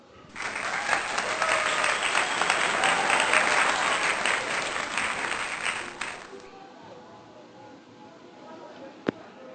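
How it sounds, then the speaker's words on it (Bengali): Audience at a children's clay modelling competition giving loud, sustained applause that swells quickly, holds for several seconds, then stops sharply, leaving a quiet room with one faint knock. "জোরে হাততালি দাও সবাই।"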